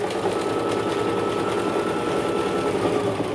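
A sewing machine running steadily as it top stitches along one side of a fabric piece, a continuous close whirring hum with no pauses for the full stretch.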